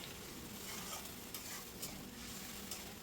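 Spice paste thinned with a small bowl of water being stirred in a pan for a Bengali rohu fish curry with cauliflower and potato, a steady wet scraping and bubbling sizzle with brief spoon scrapes, close and continuous, no talking.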